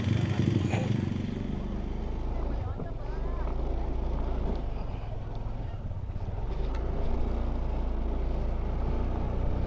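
Motorcycle ride on a road near Karawang, with a steady low engine drone and road rumble running continuously under wind noise.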